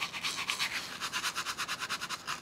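A toothbrush works white stick wax into hair with quick, rhythmic bristly strokes, close and fairly soft, speeding into a regular scrubbing pulse toward the end with no talk.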